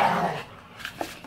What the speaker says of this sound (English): You hear my dogs are really playing.